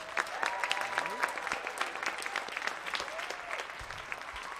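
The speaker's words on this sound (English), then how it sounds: "Let's give them a big round of applause first" Audience applause at a school jazz band spring concert, steady dense clapping from a crowd over nearly five seconds with scattered louder claps and a faint tonal sound drifting underneath.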